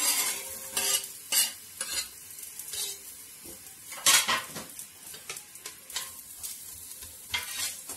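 Onion fries in oil in a pot for a beef tajine, a soft sizzle under rhythmic stirring scrapes and clinks of a spoon against the pot, close and fairly quiet.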